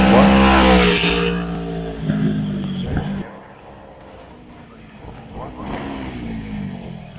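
A KTM 790-engined race car at the Wiscombe Park hillclimb revs hard close by, then fades as it pulls away, with further bursts of revving and gear changes in the distance.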